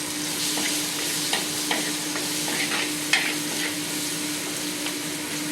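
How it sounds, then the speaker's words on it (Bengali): Turmeric frying in hot oil, a steady sizzle with scattered faint stirring scrapes and small pops, continuous and close, with no voices. "এটা সটে হওয়ার পর একটুখানি হলুদ আমি তেলে দিই"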